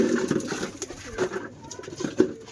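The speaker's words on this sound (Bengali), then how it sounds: "সব প্রচুর পায়রা আছে, প্রচুর" Pigeons coo repeatedly at close range, soft throaty calls rising and falling in a loose rhythm with faint background noise.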